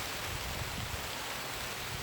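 Heavy rain falling outside a greenhouse makes a steady, dense broadband roar that stays constant and fairly loud throughout, with no voices.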